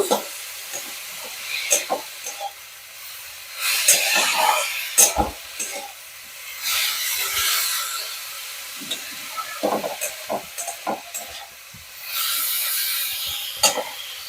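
Vegetables stirred and fried in a pan, with bursts of hissing sizzle that swell and fade between bouts of stirring, interspersed with clatters and scrapes of the utensil, close and moderately loud.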